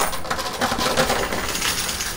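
Coins clatter and tumble continuously inside a high-limit coin pusher arcade machine, a dense, close, steady metallic jingle with no talk over it.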